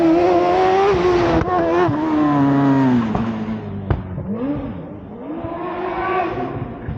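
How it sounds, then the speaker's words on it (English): An Empire Evo 2 single-seat racing car screams up through the gears at a hill climb, with rising, falling pitch sweeps, loud and close at first, then fading into the distance. "And this is Ben Wheeler in the first of their single-seat racing cars in the Empire Evo 2."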